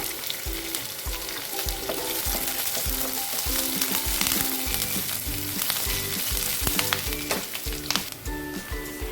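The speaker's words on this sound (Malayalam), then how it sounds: "ഇഞ്ചി വെളുത്തുള്ളിയൊക്കെ വാടി ചെറുതായിട്ട് മൂത്ത് വന്നിട്ടുണ്ട്" Ginger, garlic and chopped curry leaves sautéing in a pan for chicken pola, a loud, close sizzle broken by rapid, rhythmic scraping and clinking of stirring throughout.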